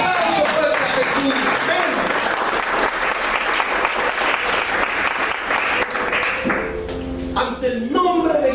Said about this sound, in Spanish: Ese aplauso fuerte a Jesús